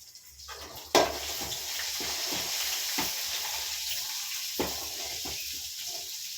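Curry leaves sizzle and spit in hot oil in a pan, a steady broadband frying hiss with a sharp crackle near the start and a few louder pops and stirring knocks.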